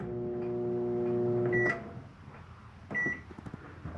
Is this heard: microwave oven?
yes